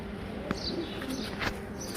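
Pigeons in a coop coo softly with occasional chirps, over a steady low background murmur.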